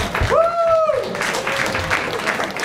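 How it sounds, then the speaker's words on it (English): An audience at a live blind date radio show in the SU bar applauds, clapping and cheering that stays close and steady under a bright whistle-like tone. "Give him a round of applause"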